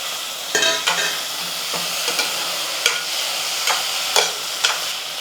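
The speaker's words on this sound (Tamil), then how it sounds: "அவரைக்காய் நல்லா இந்த மாதிரி எண்ணெயில் 1 நிமிஷத்துக்கு நல்லா வதங்கட்டும்." Chopped broad beans sauté in hot oil while being stirred, giving a steady close sizzle broken by several sharp scrapes and clatters of the spoon against the pan, with no voices.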